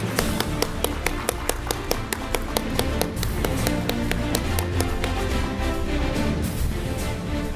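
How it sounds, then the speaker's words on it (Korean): Applause at a Korean disability committee launch ceremony during a resolution signing, heard as a steady wash of clapping from a crowd with sharp, regularly spaced claps standing out close by. "박수."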